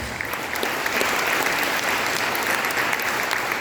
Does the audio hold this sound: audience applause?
yes